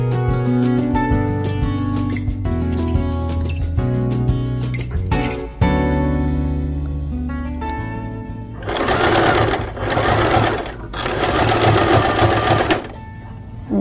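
Domestic sewing machine stitching an embroidered kitchen towel, its motor whirring in several runs of varying length separated by short pauses, with a loud sustained burst near the end and no talk.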